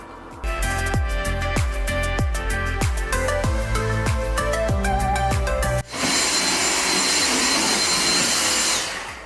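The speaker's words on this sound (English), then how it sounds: "Are you vacuuming? I am." A vacuum cleaner starts up during a master bedroom makeover, its steady loud whir running continuously for several seconds after a stretch of music.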